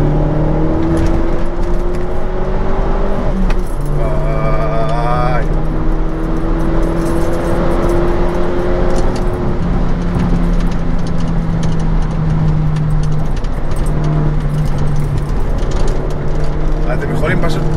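An Opel Corsa OPC hot hatch accelerates on the road, its engine loud and close as it revs up and drops between gear changes, with steady tyre and road roar throughout and someone talking over it.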